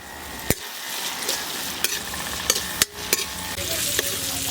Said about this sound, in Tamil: தக்காளி, வெங்காயம் நல்லா வதங்கிருச்சு.